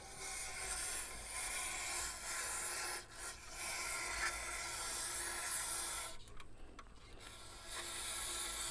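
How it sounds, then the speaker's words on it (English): A long, steady hiss of aerosol carburetor cleaner sprayed into a vehicle's throttle body up close, broken by short pauses and a brief stop near the end before resuming. "just spray some of that carburetor cleaner in there"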